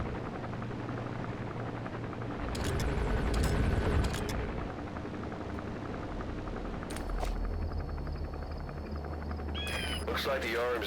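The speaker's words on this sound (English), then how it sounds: "Looks like the arms dealer's chopper is gonna patrol for the security forces" An arms dealer's helicopter patrols for security forces in the video game Metal Gear Solid. Its rotor hum is steady and loud throughout, with a swell in the middle and game effects and voices toward the end.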